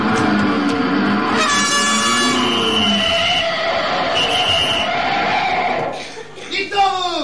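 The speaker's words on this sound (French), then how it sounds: "vous savez pas qu'il est interdit de klaxonner" Loud honking horn blasts that sustain over several seconds, with noisy street activity and voices around them.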